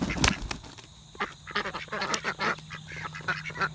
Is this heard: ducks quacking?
yes